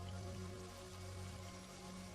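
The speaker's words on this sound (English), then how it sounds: "it begins to lightly rain." Light rain falling outdoors in an open field, a soft steady patter of drops with a faint continuous hiss, quiet and even with no voices.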